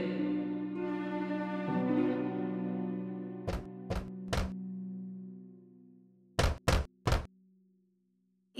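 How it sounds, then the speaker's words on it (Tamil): Two quick sets of three sharp knocks on a wooden hut door, loud and close, following a sustained tonal music bed that fades out before the knocking begins. "பின்னர் குடிசைக்கு முன்னால் வந்து கதவை தட்டியது"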